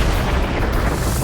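Supernova explosion effect: a dense, loud, continuous roaring rumble that fills the whole short stretch without letup.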